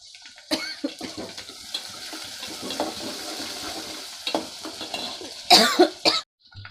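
Chopped onions and green chillies are stirred as they fry in a pan, giving scraping, rustling sizzle with uneven bursts and a louder, busier stretch near the end; no one speaks.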